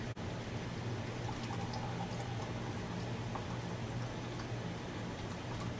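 Hot water, 1.25 cups, poured over quick oats and butter in a home kitchen, giving a steady, close liquid rush that runs unbroken for several seconds with no talking.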